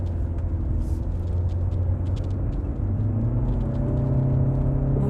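A Hyundai Avante CN7 1.6 gasoline sedan cruising at speed: low, steady road and engine rumble with tire drone from inside the cabin, continuous and moderately loud with no talk.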